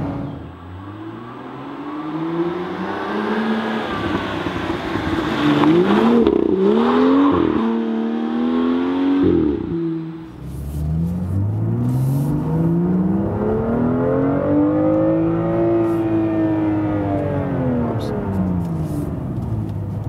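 A 370 hp BMW M2 Coupé cruises on the Autobahn at 200 km/h. Its engine drones loudly and continuously, the pitch rising and falling with the throttle, while road and wind rush stay constant throughout.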